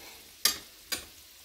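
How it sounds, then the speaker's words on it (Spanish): Chickpea meatballs fry in hot oil, with two short sharp bursts of sizzle close together over a low background hiss. "Vamos a freír hasta cuando he hecho dos lados"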